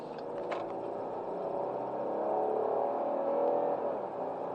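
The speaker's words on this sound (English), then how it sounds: "Wow, V6. Hear that thing?" A V6 car engine accelerating past at a moderate distance, its smooth rising hum swelling in the middle and easing off toward the end, with no talking.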